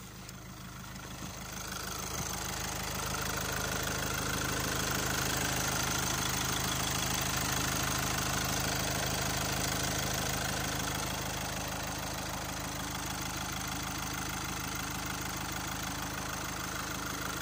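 A 2010 Volkswagen Golf 6 BlueMotion engine idles steadily for a long stretch, a close, even mechanical hum with no voices over it.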